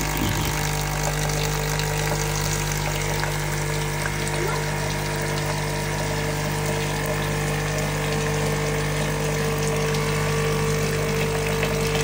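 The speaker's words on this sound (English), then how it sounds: "Now we'll flush out fresh water, we'll clean the system." A Delonghi Corso automatic coffee machine flushes fresh water through its system during cleaning, a steady loud pump hum with gushing water running continuously throughout.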